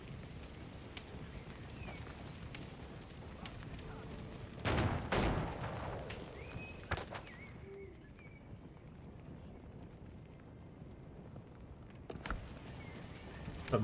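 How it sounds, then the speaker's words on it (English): Gunfire crackles in the pirate survival game Windrose, mostly as distant, faint shots. A louder burst comes near the middle and more sharp reports arrive later, with quiet ambient sound in between. "I think they're shooting."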